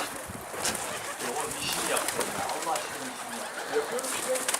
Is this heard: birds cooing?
yes